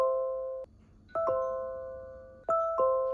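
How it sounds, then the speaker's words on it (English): An Apple HomePod plays a doorbell chime triggered by a Eufy Doorbell Dual. Clear, tonal ding-dong notes ring out indoors, one near the start and two more pairs later, each fading slowly. "So when the doorbell is pressed, a HomePod can play a chime sound."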